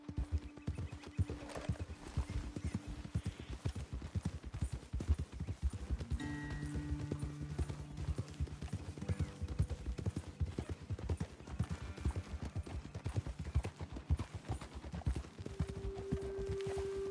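Horses in Red Dead Redemption 2 clip-clop at a steady walk along a trail, close and rhythmic hoofbeats with a brief whinny, overlaid by quiet game music tones.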